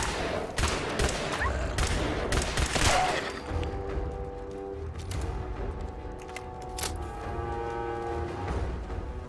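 Rapid bursts of gun hip fire in Fallout 4, loud close shots in quick clusters over a rumbling background, later thinning to scattered shots amid a droning tone.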